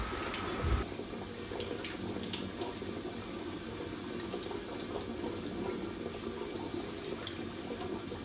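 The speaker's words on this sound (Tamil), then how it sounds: "உள்ளே தண்ணி பிடி பிடிச்சி கழுவு" Water from a tap runs steadily into a vessel being washed, a continuous close hiss and gush with slight splashing, alone and unbroken.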